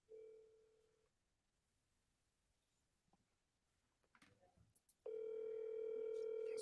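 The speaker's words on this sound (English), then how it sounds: "let me see if I get our partner in crime on the phone here before we go" A telephone dial tone while a call is placed: a steady tone briefly at the start, a quiet pause with faint handling clicks, then the tone returns loud and continuous.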